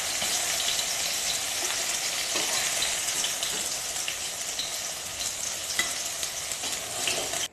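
Fish pieces fry in hot oil in a pan, giving a steady, close sizzle with scattered small crackles and pops throughout, heard alone without any talking.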